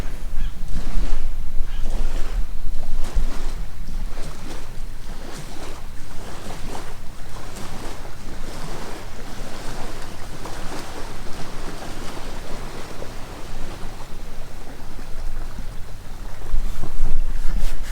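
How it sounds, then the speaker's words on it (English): Waves from a passing boat's wake wash and slap rhythmically against a river beach, with steady wind rumble over the microphone. "Oh, here comes the wake. All the waves from their boat."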